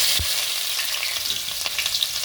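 Onion frying in a pan as part of a lunch dish, after mustard seeds have gone in; a steady, close sizzle carries through with a brief stirring knock near the start and no voices.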